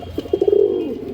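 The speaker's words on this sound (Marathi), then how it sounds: "हे कबूतर" Andhra line pigeons give a close, clear coo, a few soft pulsed notes rolling into one drawn-out falling call.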